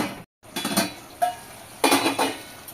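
A lid set on a pan of tomatoes cooking for chana masala, a few metallic clinks and clatters of the lid against the pan rim in quick succession, close and fairly loud, no talk.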